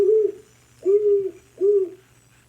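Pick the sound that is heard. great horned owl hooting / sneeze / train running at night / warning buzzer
great horned owl hooting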